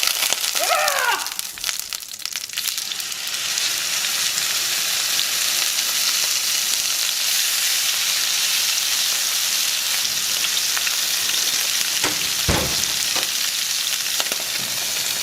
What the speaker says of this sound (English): It's gonna get loud, so just place your steak and don't move it till I tell you.